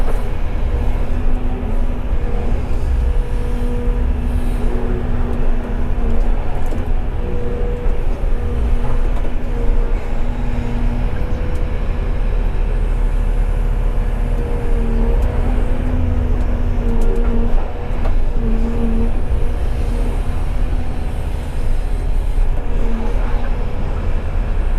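A Volvo excavator's diesel engine runs continuously at a steady, loud idle-to-working rumble with a constant hum, unchanged for the whole stretch and with no talk over it.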